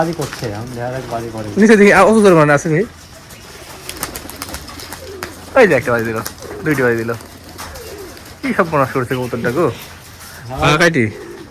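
Domestic Giriraj pigeons coo in low, throaty bursts, close by, while a person talks intermittently between and over the calls.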